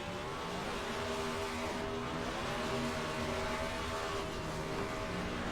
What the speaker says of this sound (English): we've got more burnouts coming from the Nowski Motorsports side of things